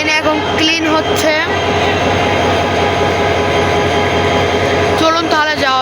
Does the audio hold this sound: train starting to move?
yes